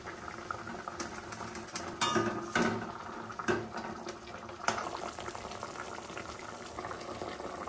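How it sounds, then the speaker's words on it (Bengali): Sardine curry gravy with mustard paste bubbling in a pan on the stove, a soft continuous simmer with occasional louder pops and clinks of cookware. "ঝোল ফুটে উঠেছে, ভেজে রাখা মাছ দিয়ে দেব"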